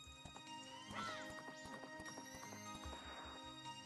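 Horse hooves gallop in a Majora's Mask horse race in the video game, a steady rhythmic clip-clop with a whinny that plays continuously over the game soundtrack.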